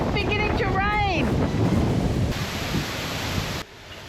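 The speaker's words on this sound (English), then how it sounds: "all of a sudden, this wind is just howling" Strong wind gusting and buffeting the microphone in the Australian outback along the Darling River as a storm rolls in, a steady roaring rush with a voice speaking briefly at the start.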